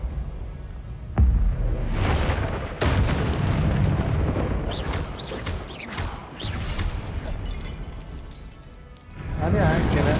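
Confringo explosive spell blasts in Hogwarts Legacy, a sharp booming impact followed by several rumbling explosions with crackling debris and whooshes, loud and close, then a fresh burst near the end; voices are heard in places.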